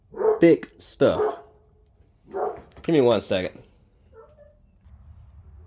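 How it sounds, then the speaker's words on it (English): A dog barks a few times nearby while someone talks about a faulty torque converter on an 08 GMC Canyon. The short, sharp barks mix in with his speech. "I'm sorry for my dog barking."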